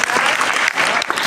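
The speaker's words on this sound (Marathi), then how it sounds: "जरा जोरात टाळ्या वाजवा" An audience at a magic show claps loudly and continuously in a brief burst of dense applause.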